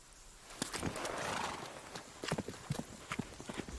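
A horse moving close by: a few hoof clops and a snort, with a rising rustle in the middle. Brisker hoofbeats follow, mixed with shuffling and faint voices.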